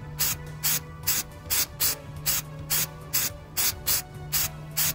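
Rapid series of short Flex Seal aerosol spray bursts on the seams of a military rain poncho, about a dozen in a regular rhythm, close and fairly loud with a faint hum underneath.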